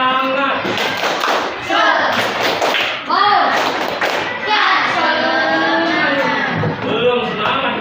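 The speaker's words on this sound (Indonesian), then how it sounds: "Coba tepuk semangat." A class of children performs a rhythmic tepuk semangat clapping chant during a school lesson, with patterned claps and thumps mixed with chanting voices and the teacher's speech throughout.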